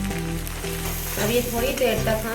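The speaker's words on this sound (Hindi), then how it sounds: "टमाटर को इसमें डालकर भून लिए हैं।" Finely chopped tomatoes with turmeric and sabzi masala fry in a pan with almonds while making poha, a steady close sizzle with stirring clatter, as someone talks over it.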